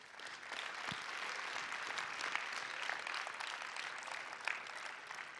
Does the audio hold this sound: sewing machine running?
no